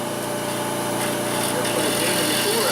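A wood lathe runs steadily while a multi-axis disk vase is turned, giving a constant close whine with a faint mechanical hum throughout the short stretch.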